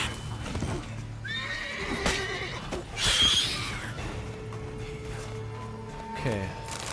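A horse whinnies over hoof clops and a steady game-like background hum, with a few other sound effects scattered through, in The Witcher 3: Wild Hunt.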